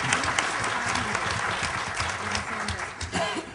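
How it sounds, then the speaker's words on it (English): A large audience at a townhall meeting applauds the panel, dense steady clapping filling the room without pause. "one more round of applause for our entire panel"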